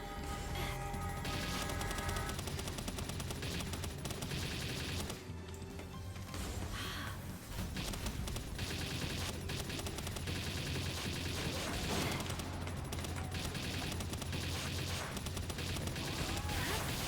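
Rapid Gatling gun fire from the video game Palworld, a dense and continuous metallic burst that runs almost without a break, with crashing impacts layered over it and a short lull partway through.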